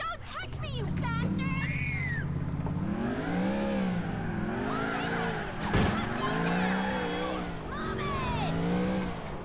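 A stolen car in the video game GTA IV pulls away, its engine rising and falling in repeated revving sweeps, loud and close, with voices talking over it.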